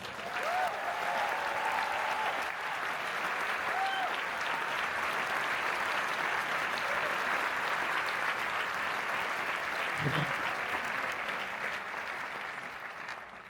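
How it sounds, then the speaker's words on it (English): Cinema audience applauding the film director at the Berlinale before a screening, a long, even wash of clapping from a large hall, moderately distant, with a few faint voices beneath. "please give a round of applause for the director, Lucille Hachi Halilovic"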